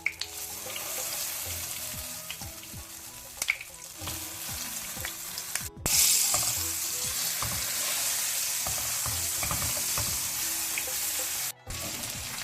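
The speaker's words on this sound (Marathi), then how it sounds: "आतां हो बरो ह्या तेलांत भाजून दी" Ground masala frying in oil in a pan for a sardine masala fry, a steady close sizzle with stirring scrapes and spoon knocks throughout.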